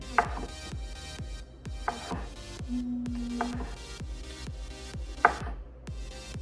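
Mushrooms are sliced fairly thin with a knife on a cutting board, giving a steady run of close, evenly spaced chops with a few sharper knocks.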